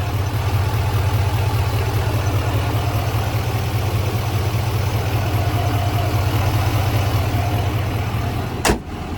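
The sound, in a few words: 2025 GMC Sierra 2500HD diesel engine idling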